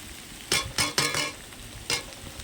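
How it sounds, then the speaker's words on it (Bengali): Pre-fried eggs go into vegetables frying in a wok, giving several short, sharp bursts of sizzling and stirring scrapes close up against a quiet background. "ভেজে রাখা ডিমগুলো দিয়ে দেবো"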